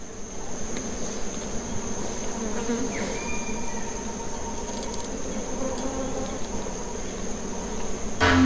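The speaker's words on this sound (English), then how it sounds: "The air around this carcass is thick with the buzzing of flies" Dense, continuous buzzing of many flies swarming around an animal carcass outdoors, close and fairly loud, holding steady for several seconds with a faint whine rising briefly partway through.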